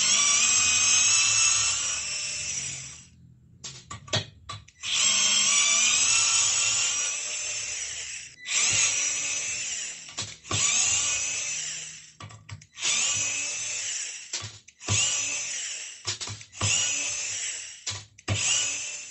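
A Deli 3.6V cordless screwdriver backs out screws in a series of high whirring bursts, each run a few seconds long and separated by short pauses, close up with no talking.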